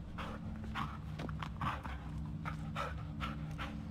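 A dog pants rhythmically in the Blair Witch video game, a steady run of short breathy huffs over a continuous low ambient drone, with faint footstep-like thuds.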